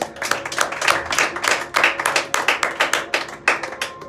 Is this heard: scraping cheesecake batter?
no